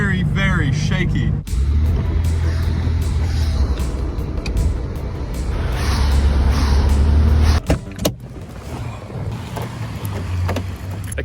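A classic car drives on a wet road in the rain at about 100 km/h, with a steady low engine and road rumble throughout, some brief knocks and rattles, and a voice speaking near the start.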